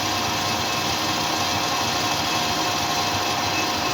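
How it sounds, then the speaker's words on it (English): A centre drill bores into the end of a sissy bar on a lathe, producing a steady, continuous machine hum and whir with a broad hiss and no pauses. "coming in with a centre drill."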